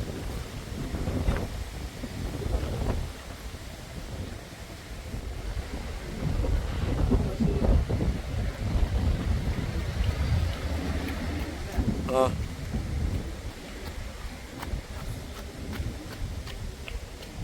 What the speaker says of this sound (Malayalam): ശക്തമായ അതിശക്തമായ കാറ്റാണ് ഇപ്പോൾ അടിച്ചുകൊണ്ടിരിക്കുന്നത്